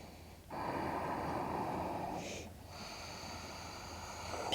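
Yoga breathing during a Surya Namaskar A sun salutation: one long, rushing breath drawn through the nose, then a short gap and a second sustained breath, close and soft.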